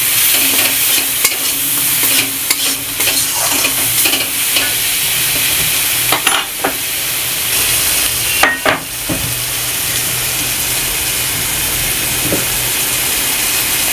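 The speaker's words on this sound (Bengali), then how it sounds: "এবার সুন্দর করে সবগুলোকে ভালো করে কষিয়ে নেব।" Chela fish curry with turmeric powder is stir-fried in a pan, giving a loud, steady sizzle and hiss with scraping stirring strokes now and then, close up and without voices.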